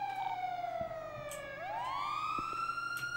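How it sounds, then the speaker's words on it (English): A police car siren in a GTA roleplay video game wails steadily, dipping then sweeping back up in a loud continuous tone that fills the whole moment, with no speech over it. "Can't hear you over these sirens"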